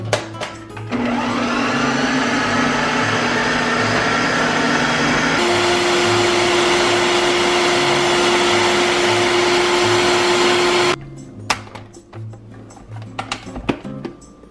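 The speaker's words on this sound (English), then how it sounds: "All right, let's blend away." A food processor blends heavy vegan bread batter with a loud, steady motor whine that shifts pitch once as the load changes, then cuts off, leaving quiet clatter and handling noises.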